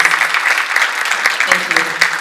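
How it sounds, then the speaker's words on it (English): Conference audience applauding a speaker called to the stage, a dense steady patter of many hands with a few sharper claps standing out, filling the room at even loudness throughout. "Round of applause, please."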